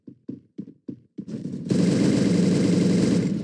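Gunfire from a gun in the Free Fire video game: five single, evenly spaced shots, then a loud continuous automatic burst that runs to the end.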